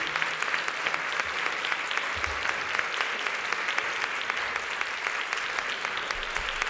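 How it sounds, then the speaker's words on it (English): An audience at a 2019 closing ceremony gives a round of applause, a sustained, even patter of many hands clapping heard from a moderate distance, with sharper individual claps scattered through it. "everybody please give them a round of applause"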